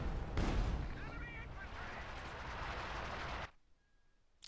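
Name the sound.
long-range artillery strike in a video game (Company of Heroes)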